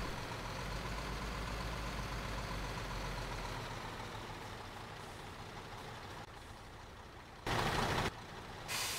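A heavy truck in Construction Simulator rumbles along with a low, steady engine drone for most of the stretch, then the sound thins out before two short, loud bursts of broadband noise close it off.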